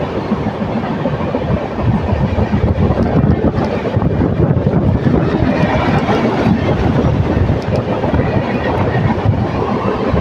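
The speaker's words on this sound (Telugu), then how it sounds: "ఇంకో ట్రైన్ ఏదో క్రాస్ చేసుకుంటూ వెళ్తుంది" Another train, the Janmabhoomi Express, crosses past on an adjacent track during an Indian rail journey between Visakhapatnam and Mahabubnagar, a loud close rumble with wind buffeting that swells after the first couple of seconds and holds.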